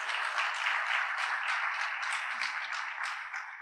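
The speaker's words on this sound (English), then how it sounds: "I'll come back in a few years, see you're still applauding." An audience at a soccer event applauds in a dense, steady wash of clapping that fades slightly toward the end, with no voices over it.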